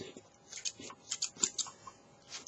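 Sharp scissors trimming foam armor, several quick close snips in irregular bursts against a quiet background.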